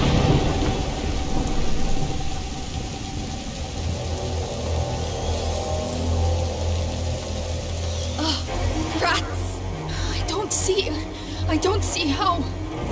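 Thunder and steady rain fill a storm in the video game A Plague Tale: Innocence, with a sharp, loud crack and rumbles near the end while voices talk through it.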